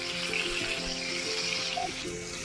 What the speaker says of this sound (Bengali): এবার আলুগুলো ভেজে নেবো ওই তেলের মধ্যে।